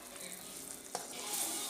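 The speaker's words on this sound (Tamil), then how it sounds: "நல்லா கொதிக்குது குழம்பு" Pot of sundakkai kulambu, a Tamil curry with oil separating on top, bubbling and sizzling softly on the stove, a quiet steady simmer with a faint clink midway.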